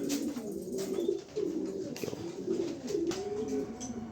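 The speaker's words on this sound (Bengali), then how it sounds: "আজকে খুব সুন্দর একটা নর কবুতর" A male pigeon coos in repeated low, throaty rolling phrases close by, one call after another with short breaks, alone without talk.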